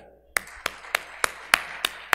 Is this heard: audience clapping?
yes